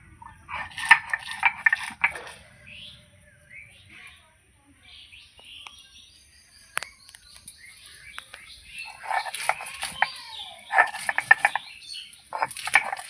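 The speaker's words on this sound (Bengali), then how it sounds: "এই জন্য আমি লঙ্কাটা বেটে নেবো, আদা বাটা করে নেব" Green chilies and ginger ground into a paste on a grinding stone, heard as bursts of scraping and knocking strokes between quiet pauses, with birds chirping in the background.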